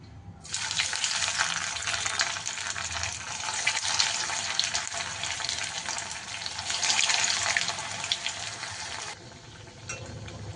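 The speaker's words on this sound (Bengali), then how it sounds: "আমার তেল গরম হয়ে গেছে। এবার আমি আস্তে আস্তে চপগুলো ছেড়ে দেবো।" Banana flower chops fry in hot oil with a steady, dense sizzle that holds loud and close for about nine seconds, then cuts off abruptly. No talking.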